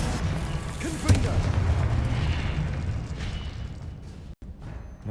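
Confringo spell blasts in a Hogwarts video game burst out as booming, rumbling explosions, with a sharp crack near the start and a dense, continuous wash of magical impacts that briefly cuts out near the end.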